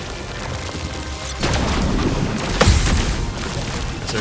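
A rain of fire attack in the game Clair Obscur: Expedition 33 booms in, with a sudden heavy rumble followed by a sustained crackling barrage and a second strong impact partway through.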